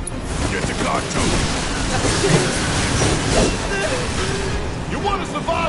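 A train rolls on steadily in a PS4 video game, a continuous loud rumble and clatter running throughout, with voices talking over it.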